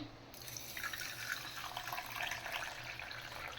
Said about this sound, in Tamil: இப்போ நான் முதல்ல கொள்ளில் ஊற்றுறேன்